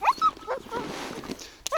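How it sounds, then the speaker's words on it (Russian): Dog whimpering outdoors near water, several short high whines and yips in quick bursts, fairly close but soft, with quieter gaps between them. "Не плачь, Ларри пес, сейчас поедем."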